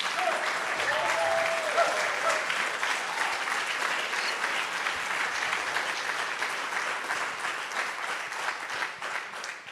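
Steady applause from a crowd, sustained and fairly loud throughout, with no pauses.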